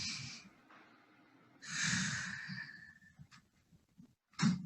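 A person breathing deeply during a guided relaxation, with long airy inhales and exhales and a few short snort-like nasal breaths, close and fairly quiet with no talking.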